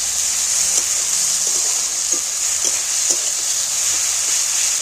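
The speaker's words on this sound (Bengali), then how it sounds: "রসুনটাকে তেলের মধ্যে আলাদা করে একটু ভেজে নেব।" Garlic paste fries in hot oil for a lentil and egg curry, making a steady bright sizzle throughout with a few soft stirring scrapes and taps underneath.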